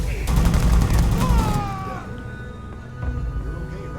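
Point-blank gunfire in Starfield, a loud close volley of rapid shots up front that fades into quieter game sounds, with a voice talking briefly during the clip.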